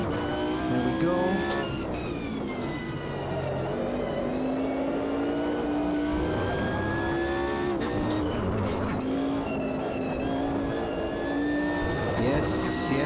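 A GT1 race car engine in the Automobilista 2 racing game climbs steadily through the revs as the throttle opens, a loud, continuous rising whine with brief tyre squeal, with someone talking over it.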